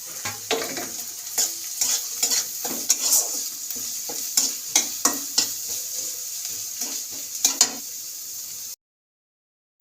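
Chopped carrot and spring onion sizzle while being fried in a pan, with a spatula scraping and stirring in repeated close clicks over a steady hiss; the sound cuts off abruptly near the end.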